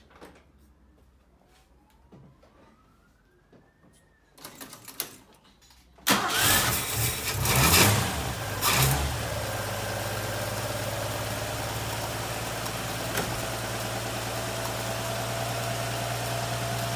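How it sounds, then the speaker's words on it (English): A 1960 XK Ford Falcon engine cranks briefly after quiet handling noises, then catches with a sudden loud start and settles into a steady, close, even idle that runs to the end. "let's start her up again and see if she still leaks"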